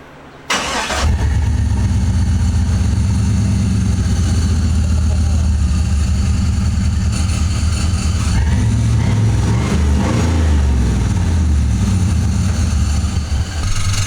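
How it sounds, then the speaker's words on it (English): An engine cranks and starts, then settles into a loud, deep, rumbling idle with a throaty exhaust tone that holds steady throughout. "Now I want to show you what it sounds like after I put the exhaust on."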